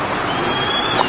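A kitten gives a single short, thin meow near the end, heard close up over a soft hiss of background noise with no talking.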